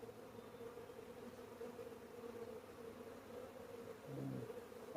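A steady low buzzing drone of many honeybees, workers and drones, in a hive, fills the clip, soft and continuous, swelling slightly near the end.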